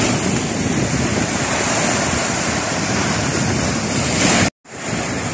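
Sea waves at night on a fishing trip roll and break in a constant, loud wash mixed with wind noise, broken by a sudden brief dropout near the end before the surf resumes.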